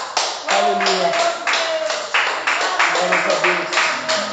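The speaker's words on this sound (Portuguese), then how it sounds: "Você pode dar um aplauso ao Senhor?" A church congregation claps together during a worship service in rhythmic bursts, loud and close, with some voices mixed in among the steady beats.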